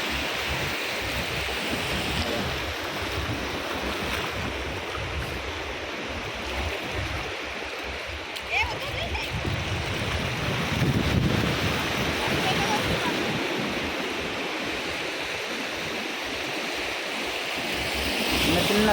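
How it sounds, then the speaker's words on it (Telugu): Ocean waves break and wash steadily onto a Goa beach, a continuous broadband rush with swelling surges, mixed with wind buffeting the microphone throughout. "చూడండి guys, వేవ్స్ ఎట్లా వస్తున్నాయి"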